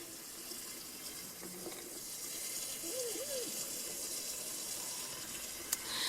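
Water runs steadily from a hose or can onto garden plants in a vegetable patch with cucumbers and beans, a soft continuous hiss and splash at moderate level, with a faint distant birdcall and a small knock near the end.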